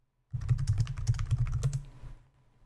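Typing on a computer keyboard, entering terminal commands on a Raspberry Pi: a quick burst of close, crisp keystrokes for under two seconds, then quiet.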